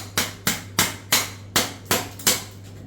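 A coconut is struck to crack it open so the water can be saved: seven hard, evenly spaced blows, each a sharp close knock that rings briefly.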